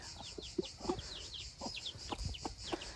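Roosters fighting: sharp thuds and scuffles, likely wing flaps, sound at irregular intervals over constant high chick peeping, with occasional clucks mixed in at a moderate distance.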